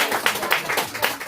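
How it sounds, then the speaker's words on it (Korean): An audience at an indoor property forum applauds a valuation firm's director, a short burst of brisk, close clapping with an uneven rhythm. "오늘 수고해주신 생창평가법인의 고병관 이사님에게 박수 한번 주세요"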